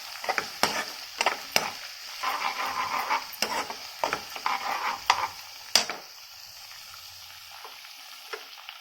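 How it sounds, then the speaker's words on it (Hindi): Spicy masala for Schezwan masala aloo frying and sizzling in a pan while being stirred, with scraping spoon strikes against the pan, then settling into a quieter sizzle. "दो मिनट तक मसाला फ्राई करना है।"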